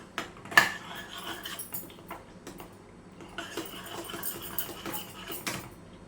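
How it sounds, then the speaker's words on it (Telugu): A metal spoon stirs custard powder into milk in a pot, giving soft irregular scrapes and clinks against the pot, with one sharper clink near the start and busier scraping in the second half. "ఆ పాలు కోసం నేనేమో ఇది ఏమి ఉండలు కట్టకుండా తిప్పుతూ ఉన్నాను అనమాట."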